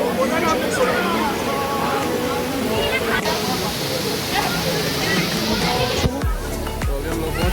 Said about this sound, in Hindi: तो ये पहुंच गए अपने नीर वाटरफॉल।